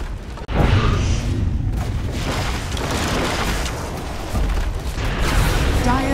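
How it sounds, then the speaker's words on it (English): A tower in Dota 2 crumbles under attack with loud, sustained booming and crashing rubble, a continuous heavy rumble of blasts lasting several seconds, with game voices speaking over it. "Dire's middle tower has fallen."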